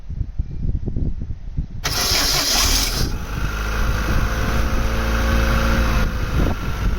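A Vauxhall Astra Mk3 1.6 saloon engine left unused for over ten years is started up: a quiet stretch with faint sounds, then the starter cranks briefly and the engine catches into a loud, steady idle that continues close by.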